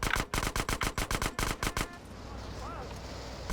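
Rapid bursts of automatic gunfire from GTA San Andreas, loud and close, rattling in about a dozen quick volleys for two seconds before giving way to quieter game ambience.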